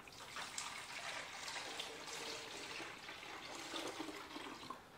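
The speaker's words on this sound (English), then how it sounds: "So I'm just going to pour that into the reservoir." Four cups of water poured from a measuring cup into the reservoir of a nugget ice maker, a steady splashing pour lasting several seconds, close and fairly quiet, with no talking.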